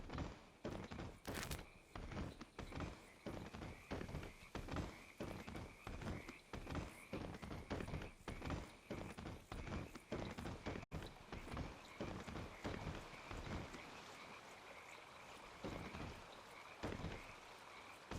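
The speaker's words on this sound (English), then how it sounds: "in my ears right now, I hear nothing but frogs" Frogs croak steadily in the ambient soundscape of the video game Ark: Survival, a dense, continuous chorus of rhythmic croaks running through the whole stretch with no talk over it.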